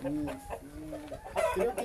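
A well-grown fighting rooster of about nine pounds clucks and crows in short, near bursts, with someone talking over and between the calls.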